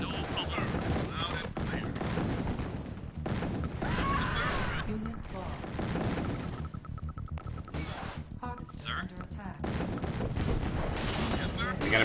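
Battle gunfire and explosions in the Command & Conquer Tiberian Sun Firestorm strategy game, a busy continuous clatter of shots and blasts with someone talking over the action.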